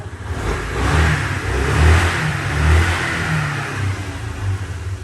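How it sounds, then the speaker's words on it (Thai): A 2008 fuel-injected Yamaha Grand Majesty 400cc single-cylinder scooter idles close by, loud and throbbing, with a few swells of revving. "เดี๋ยวขอสตาร์ทดีกว่านะครับสตาร์ทให้เพื่อนฟังหน่อย"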